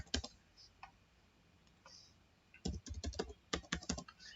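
A root password goes in on a computer keyboard: a few scattered key clicks at first, then a quick close run of typing, crisp and quiet in a still room.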